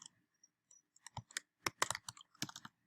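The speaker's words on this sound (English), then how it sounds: "I have a hard time typing and sometimes spelling" Typing on a computer keyboard, irregular bursts of crisp key clicks close by, pausing briefly between clusters with no talk.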